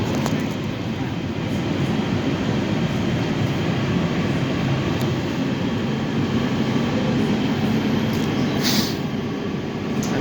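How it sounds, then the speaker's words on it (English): An LA Metro A Line subway train rides along on opening day of the Regional Connector, with a steady, loud rumble of wheels on rail running unbroken and a brief higher hiss near the end. "This is a Metro A line train."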